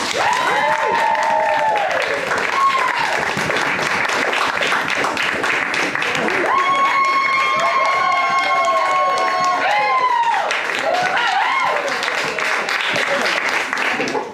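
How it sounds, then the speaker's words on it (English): Audience applause and cheering for the evening's improvisers at a live bluegrass comedy show, a dense steady wash of clapping lasting throughout, with whoops and a few voices calling out over it. "please give a round of applause for the improvisers of the night"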